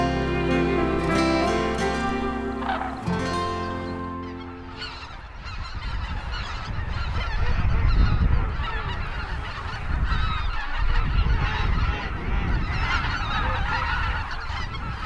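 Hooded cranes, an endangered species, call repeatedly in a loud, honking chorus from a flock, harsh overlapping cries continuing throughout with no talk.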